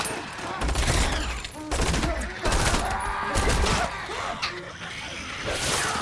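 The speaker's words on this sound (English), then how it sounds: "No silence and then shooting." Rapid bursts of gunfire crackle and rattle through a Devil May Cry 5 game scene, loud and dense volleys with brief gaps, mixed with other game effects.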